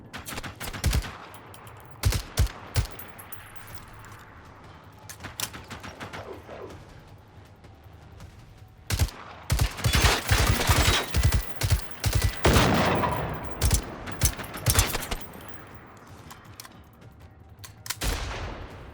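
Enemy gunfire in Generation Zero erupts in scattered bursts of sharp shots, some sparse and some in rapid clusters, loud and close, with quieter gaps between volleys across the whole stretch.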